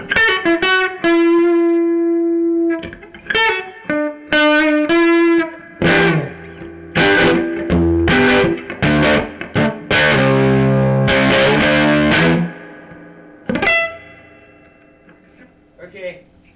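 Electric guitar played through an amp on a '55 Champ' voicing with reverb: loud strummed chords and picked notes with a driven, slightly distorted edge, ringing tails between phrases and a last chord fading out.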